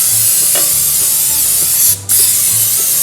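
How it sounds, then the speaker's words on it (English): A continuous aerosol cooking spray hisses steadily onto a creased baking pan, cutting off briefly near the end before resuming, loud and close. "First thing you're going to want to do is spray your pan."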